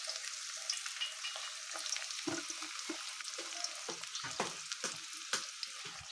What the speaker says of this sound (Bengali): তো এখন আমি আলুগুলো দিয়ে দেবো তেলের মধ্যে। তার মধ্যে একসাথে দিয়ে দেব পেঁয়াজ আর চেরা কাঁচা লঙ্কা।